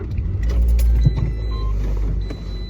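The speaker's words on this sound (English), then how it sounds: "I don't know how loud my car is now" A car engine runs with a steady low rumble close by while the vehicle sits on an errand stop, joined by light clicks and a faint high electronic tone.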